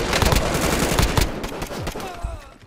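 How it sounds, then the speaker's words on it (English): Gunfire in the video game Call of Duty Warzone, a dense loud burst of rapid shots running throughout and tapering slightly toward the end, with no clear talk over it. "Yeah, let's shoot."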